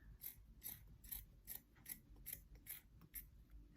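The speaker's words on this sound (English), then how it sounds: "I'm going to cut to near the elastic band, not the whole way. The scissors aren't that sharp." Dull household scissors snip through a fabric sock toward its elastic band, giving about eight crisp, evenly spaced cutting clicks, close and fairly quiet, with no talking.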